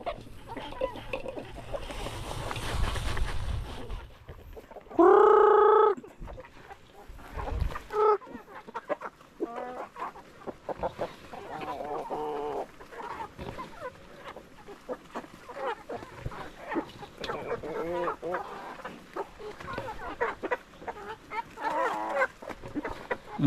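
Chickens cluck and fuss nearby, with a loud rooster crow rising clearly for a moment amid the continuous farmyard clucking.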